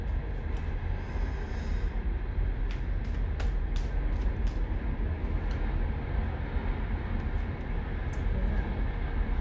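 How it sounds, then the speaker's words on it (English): A long train rolls past steadily in a constant low rumble with faint clicks and squeaks over it, heard alone at moderate volume. "That's a long train, still going."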